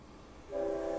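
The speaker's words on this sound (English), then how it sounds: "Oh, there's a train." A train passes at a distance, a low rumble joined midway by a sustained horn tone that holds steady and moderately loud, with no talking over it.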